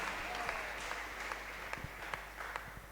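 A church congregation applauds together during a sermon, giving steady, dense clapping with scattered sharper claps standing out from the wash.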